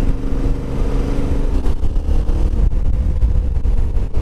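A Yamaha Tenere 700 adventure motorcycle being ridden, its engine droning steadily and loudly up close with some rising revs and rushing wind noise, no talking.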